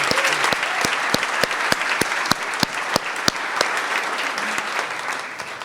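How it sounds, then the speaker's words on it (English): A room of attendees at a business forecast breakfast gives a speaker sustained applause, with dense clapping and sharp, separate claps standing out near the microphone. The applause is fairly loud and carries on throughout. "Please give Anya another round of applause."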